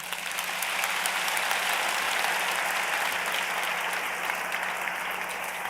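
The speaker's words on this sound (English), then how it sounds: "Now you can applaud." Sustained, dense applause from a large audience at a Georgia Tech bachelor's commencement ceremony, loud and even throughout with no voices.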